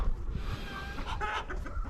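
Chickens on a farm cluck softly in short bursts over low background rumble, with no talk.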